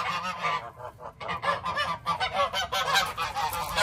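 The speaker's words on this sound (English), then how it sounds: "You gotta always look out for these mean geese." Geese honk loudly and repeatedly at close range, a rapid overlapping chorus of harsh calls with no pauses.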